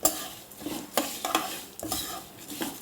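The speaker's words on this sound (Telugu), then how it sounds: "ఒక అర స్పూన్ మెంతులు వేసి వేయించుకోవాలి ఇలాగా" Urad dal, chana dal and mustard seeds fry in a pan for tindora curry, a soft sizzle under a few brisk stirring scrapes of a spoon against the pan, quiet and close.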